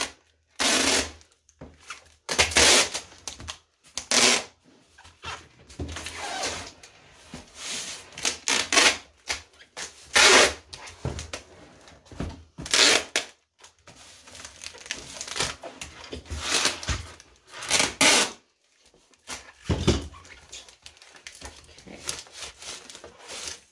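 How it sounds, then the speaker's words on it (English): Packing tape repeatedly pulled off the roll and pressed down to seal an artwork package, loud close screeching rips and crinkling bursts separated by short pauses. "Told you guys I go through a lot of tape when I do this"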